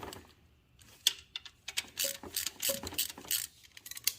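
A long-arm ratchet snugging an alternator bolt on a Chevy Cruze 1.4L, heard as a run of close, sharp mechanical clicks and metallic ticks in short irregular bursts.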